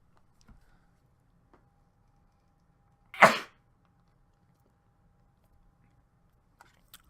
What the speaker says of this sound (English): I just need to sneeze.